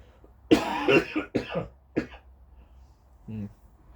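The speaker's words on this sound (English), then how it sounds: "I'm just going to have a quick cough." A few harsh coughs close up, one strong burst followed by smaller ones, then a brief throat-clearing sound after a short pause.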